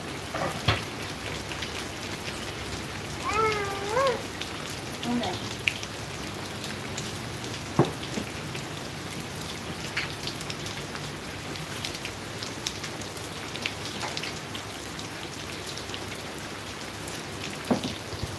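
Steady rain pours down in a dense, continuous hiss with scattered louder drops striking a surface nearby, and a faint distant call rises briefly early on.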